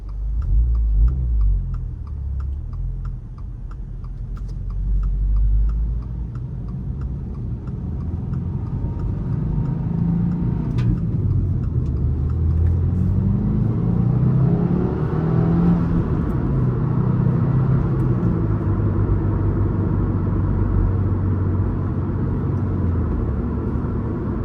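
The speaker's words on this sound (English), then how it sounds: "besides just showing the heel toe downshifts and the rev matching shifts and stuff" A manual car's engine rumbles and revs up and down through heel-toe downshifts, with rising and falling engine tones over steady cabin noise and a faint ticking in the background.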